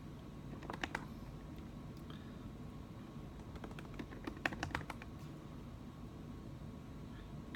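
Keys on an Apple MacBook Pro 15-inch 2016 laptop keyboard click in short, quick bursts, quiet and close, with pauses between runs of typing.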